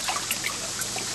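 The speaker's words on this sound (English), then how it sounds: "It pumps the water up into the tank" Water pours and trickles steadily into a home-made drum filter tank after being pumped up, a close, continuous splashing patter with no voices.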